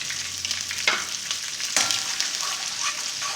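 Ground cumin sizzles in a karahi for a Peshawari charsi chicken karahi, a steady close frying hiss broken by a couple of scraping stirs, with no talking.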